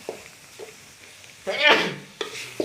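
Minced pork is stir-fried for a dry Thai khua kling, with soft sizzling and scraping stirs in short bursts and a brief voice partway through.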